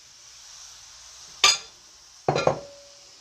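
Onion and garlic dropped into a pan of browning meat, two short loud hits about a second apart, each followed by a brief sizzle, over a faint steady background hiss.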